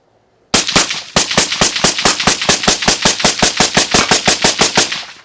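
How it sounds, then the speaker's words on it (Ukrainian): Rapid, steady fire from a suppressed Steel Pegasus L rifle, muffled reports in a long even string of shots in quick rhythm after a brief pause at the start. "Зараз розігріваємо гвинтівку і глушник, і будемо дивитись"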